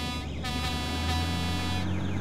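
A Volvo FH16 750 truck sounds its horn, a loud sustained rich blaring tone held for a couple of seconds over low engine rumble, with brief breaks in the upper harmonics.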